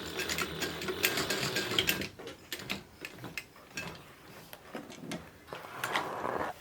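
A sewing machine stitches inside the facing of a fabric book bag, a dense mechanical whir at first giving way to short stop-start bursts of stitching with pauses between, close and fairly quiet.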